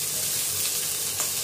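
Garlic, ginger and capsicum sizzle in a hot pan for Gobi Manchurian, a steady close frying hiss with a faint stir, and no talking over it.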